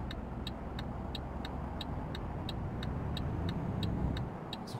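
In Euro Truck Simulator 2, a truck engine pulls away from a standstill with a low, steady drone that swells slightly, while a faint ticking, like an indicator, repeats evenly above it.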